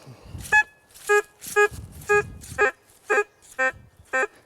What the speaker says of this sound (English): you're listening for solid, repeatable beeps